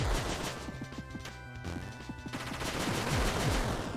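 Rapid bursts of retro game gunfire from Cave Story+ in the Bushlands area play as the character shoots upward, with a fireball weapon in use, a dense stream of crackling shots and zaps over looping chiptune music.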